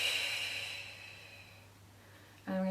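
Slow, deep breathing during a gentle Pilates session for chronic illness, a steady airy hiss of exhaled breath up close that fades over a couple of seconds before a brief tonal sound cuts in at the end.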